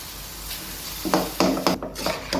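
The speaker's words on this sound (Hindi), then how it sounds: "अनियन सौते हो गया, इसमें मैं चिकन स्टार्ट कर दूंगी" Chopped onion and chicken sizzling in a pan while being stirred, with scraping and clinking bursts from a utensil against the metal, near and moderately loud, with no talking.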